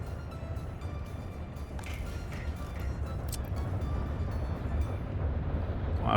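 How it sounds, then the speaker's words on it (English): A slow freight train rolls out of its depot in the Workers and Resources: Soviet Republic game, a steady low rumble of wheels and engine that builds gradually and holds throughout, with no speech. "It's our first train coming out."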